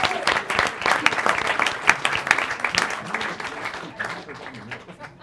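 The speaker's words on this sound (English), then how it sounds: "Let's give him another round of applause." Sustained, dense applause fills the room at a school district board of trustees meeting, with many hands clapping together at a steady, moderately loud level that eases slightly toward the end.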